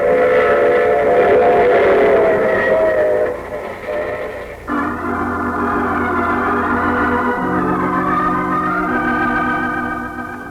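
A train rumbles along steadily while a loud, sustained steam whistle blows, its tone shifting and holding over a low rolling rhythm of the cars.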